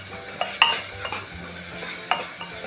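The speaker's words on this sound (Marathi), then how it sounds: "1-2 मिनिटं आलं लसूण परतवून घ्यायचं आहे।" Ginger garlic paste sautéing in a pan makes a soft, low sizzle with a few sharp clinks and scrapes of a spoon against the pan.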